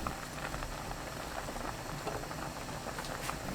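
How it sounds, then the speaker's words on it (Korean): A pumpkin side dish boils hard over high heat in a pot, a steady dense bubbling and popping that stays loud and close throughout without pause. "센 불 그대로 끓입니다"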